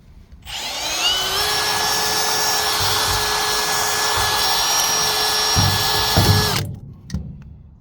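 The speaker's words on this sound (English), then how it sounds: "Go ahead and drill it out there." A power drill whirs steadily for about six seconds at close range, then stops, followed by a few faint knocks.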